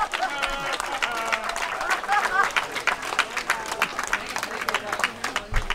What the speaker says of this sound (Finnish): Annetaan isot aplodit